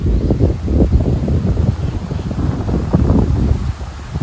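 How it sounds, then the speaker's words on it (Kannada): Cool wind blows steadily across a public beach in Mauritius, a continuous low rushing buffet with gusts that rise and fall without any talk. "ಈ ಥರ ತಂಪಾಗಿ ಗಾಳಿ ಬರ್ತಾರೆ"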